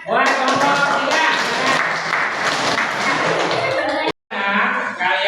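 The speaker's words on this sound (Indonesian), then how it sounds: "tepuk tangan buat kelompok 3" A classroom of students applauding a group, dense steady clapping from many hands that fills the room with a brief pause near the end before resuming, with voices mixed in.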